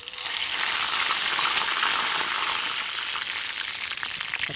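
Mustard seeds, cumin and curry leaves crackle in hot oil, giving a steady, loud, close sizzle that fills the whole few seconds with no voices.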